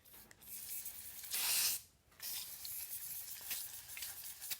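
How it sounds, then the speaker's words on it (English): A short hissing spray burst of electrical contact cleaner from an aerosol can onto a dead 1947 GMC generator, close by, followed by softer rubbing and scraping sounds. "I'm going to go grab it and spray it down with the electrical cleaner."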